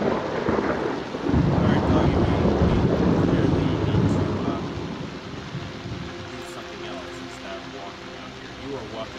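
Thunder in the horror game Lost in Vivo: a heavy rumbling crack that swells and then slowly fades under steady rain, with talk over it.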